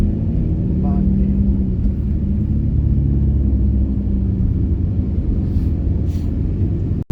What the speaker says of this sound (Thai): รถบรรทุกเยอะมากค่ะ